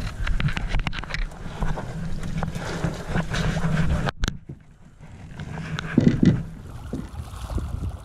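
Strong wind buffets the microphone while canoeing solo on Crystal Lake, gusting loud and rough, with a brief lull midway and faint paddle and water sounds underneath.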